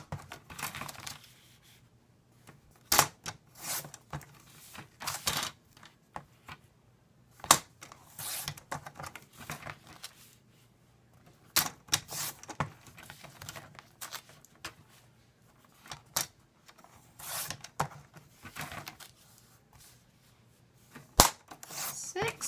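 Paper cutter chopping through paper strips, a series of sharp, separate snaps and clacks at irregular intervals, close and fairly crisp, over quiet background.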